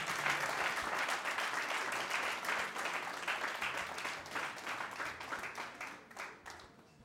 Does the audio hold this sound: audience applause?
yes